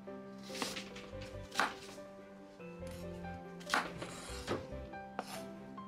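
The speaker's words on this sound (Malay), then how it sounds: "sebiji bawang besar saya akan iris kasar" A knife roughly slices a large onion in a home kitchen, giving a handful of soft, irregular cuts against a board, quiet and close, with no talking.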